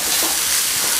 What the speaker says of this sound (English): Love them up with a bit of salt and pepper. And let them saute until they're cooked.